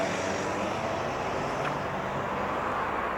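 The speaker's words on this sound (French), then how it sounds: "Encore désolé pour le bruit des camions de voiture" Trucks and cars pass nearby, creating a constant broadband roadway roar that holds steady throughout without breaks. No voices are heard.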